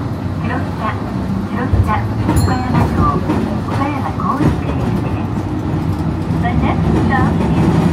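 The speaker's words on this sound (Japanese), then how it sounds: "普通の電車だね。" A train rolls along with a steady rumble and rattle in Okayama, Japan, while people talk over it nearby.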